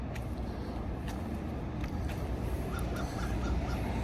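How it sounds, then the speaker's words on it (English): Crows and other birds calling from trees before sunrise, scattered harsh caws over a steady hum of distant road traffic, with no talking. "get away from all the birds who hang out in the trees before the sun comes up"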